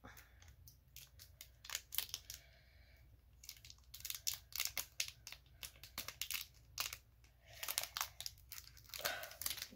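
Crinkly foil wrapper of a Japanese Pokémon trading card pack being torn and crumpled in short bursts, close up, with brief pauses between the rips.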